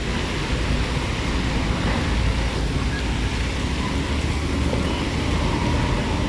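Sea waves roll in along the Baywalk shore in Manila, a steady broadband wash mixed with wind buffeting the microphone and distant roadway traffic, continuous throughout.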